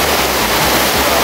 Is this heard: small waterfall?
yes